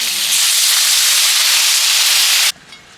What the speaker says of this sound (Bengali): দিয়ে দিচ্ছি জল